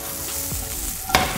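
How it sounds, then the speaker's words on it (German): Brussels sprouts hit hot oil in a frying pan, a steady close sizzle with soft stirring scrapes and a brief louder crackle near the end. "Und zwar kommt jetzt der Rosenkohl in die Pfanne."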